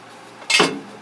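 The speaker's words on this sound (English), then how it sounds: "I'm going to put a jack stand right here" A metal jack stand is set under a 1995 Ford Explorer: a single sharp scraping clank midway, loud and close, followed by a short ringing decay over quiet background, with no talking.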